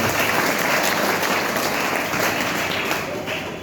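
Audience applause at a student and parent felicitation ceremony at an education centre, a dense, steady clapping from a large crowd that holds loud throughout and begins to fade only at the very end.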